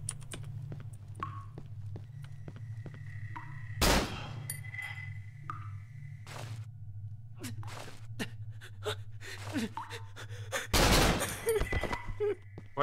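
Gunshots ring out in the horror game Cry of Fear, a few sharp loud bangs spaced apart over a steady low hum, mixed with clicks and scattered small noises.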